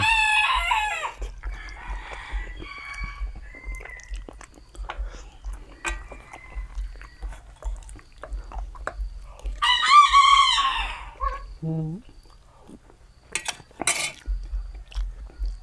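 A rooster at a Thai home crows several times around midday, loud nearby calls separated by quiet gaps, with a few clucks and faint chewing-like clicks between.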